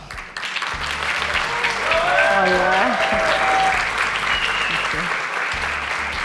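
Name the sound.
applause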